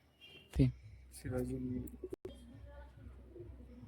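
Pigeons of the Madrasi breed cooing at a bird-seller's loft, soft low coos rising in a couple of short bursts amid background voices and handling noise.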